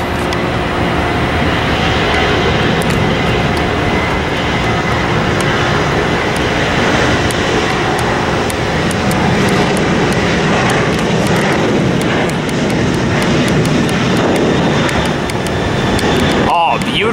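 Airplane engines spin up into a loud, steady roar that holds for the whole stretch, with faint voices mixed underneath, heard from atop a car park near Lindbergh Field.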